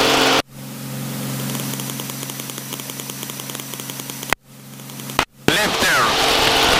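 An aircraft engine roars steadily during the takeoff roll, loud and close with a constant drone, broken by two brief cutouts before the noise resumes with a voice heard over it.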